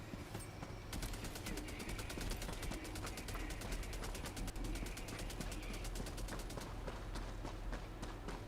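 A sentry gun in the Helldivers video game fires a long, rapid, steady burst of automatic shots for several seconds, loud and close against a dense background of game noise, then the firing fades out near the end.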